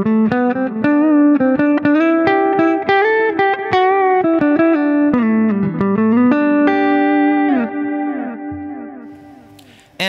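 Clean electric guitar on the neck pickup through an Axe-Fx III, playing a melodic line with sustained notes and some chords, warm and rounded in tone, fading out at the end.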